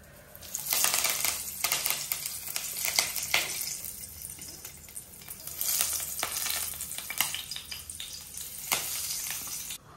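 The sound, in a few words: onions frying in oil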